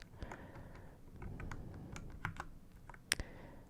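Fingers tap a computer keyboard at close range in a quiet room, a soft, irregular run of light clicks with a sharper key strike near the end.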